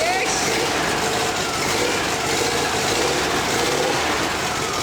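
A VW camper van engine runs steadily and loudly throughout, a continuous rumbling drone heard close by.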